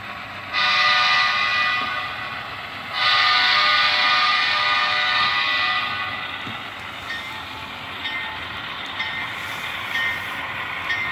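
Heavy model train engines on three-axle trucks making a test run along a street-running layout, with a steady rolling rumble and high whistle-like tones sounding in two long blasts and then fading lower.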